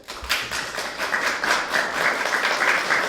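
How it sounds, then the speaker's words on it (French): An audience claps and applauds to welcome a guest speaker at a French-language film screening and debate, with steady, dense clapping throughout. "Monsieur Charles Tampaka, dont je demande d'applaudir pour lui, s'il vous plaît."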